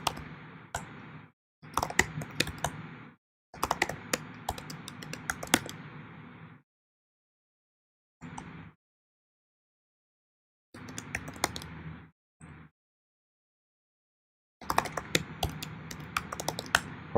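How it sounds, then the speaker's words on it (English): Bursts of rapid keyboard typing in MS-DOS 1.25, with distinct clicking keystrokes in several runs separated by silent pauses, close and fairly loud with no voice. "Hard to type when the screen's blinking."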